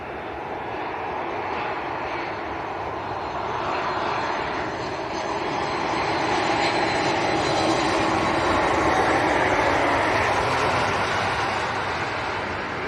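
Ryanair airliner arriving from Alicante at Leeds Bradford Airport, a broad, steady jet roar swelling gradually as it passes close by, loud and continuous with no voices over it.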